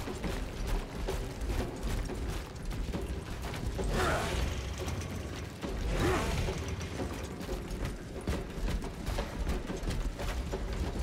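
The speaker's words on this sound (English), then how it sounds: "I like chainsawing." A chainsword in Warhammer 40K: Space Marine 2 grinds and rattles mechanically, with two rising whooshing revs over a continuous clattering, ratcheting texture.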